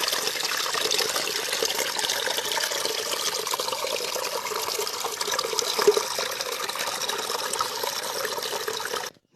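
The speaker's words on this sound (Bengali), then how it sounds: "ঝর্ণার জলের কুলুকুলু শব্দে মন প্রাণ জুড়িয়ে যাবে" Steady rushing and murmuring of a waterfall pouring over rocks at Belpahari, a dense continuous wash of water sound close by, alone with no voices, ending abruptly near the end.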